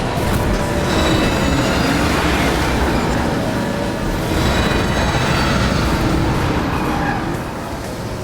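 A train rumbles past in the Transformers: War for Cybertron video game, a loud continuous roar of wheels and cars with faint squealing that swells and eases slightly, no speech.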